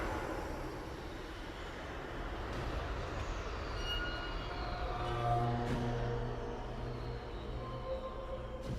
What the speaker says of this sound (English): It arrives at his house, and the sound design is so good of this train.